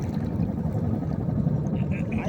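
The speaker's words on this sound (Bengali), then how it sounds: "পাল্লা দিয়েছে দুইটা ট্রলার। কার আগে কে যাবে?" Two trawler boats race each other on the Meghna river, their engines making a low, constant droning rumble. A faint voice can be heard in the mix.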